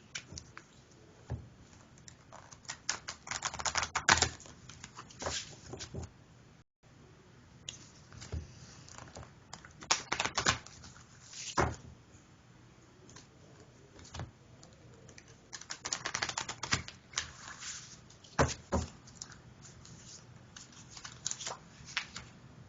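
A deck of inspiration cards being shuffled and a card drawn: soft, close riffling and flicking of cards in irregular bursts, with quieter gaps and small rustles between.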